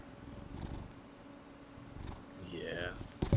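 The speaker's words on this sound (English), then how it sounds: "He's purring." A faint, low rhythmic purr from a cat rumbles quietly beneath people talking close by.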